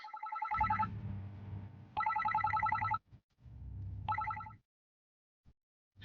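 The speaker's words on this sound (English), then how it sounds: "Suddenly it seemed like Shiori's cell phone started ringing." A cell phone rings in the Psycho-Pass: Mandatory Happiness video game with a repeated electronic ring tone. Two bursts of ringing sit over a low background hum, and a third short burst follows.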